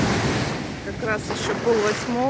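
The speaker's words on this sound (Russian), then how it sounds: "Океанчик сегодня с ветерком нас встречает с утра." Ocean waves and morning wind on the Sri Lanka coast, a continuous surf roar with gusty microphone wind throughout, while someone talks over it.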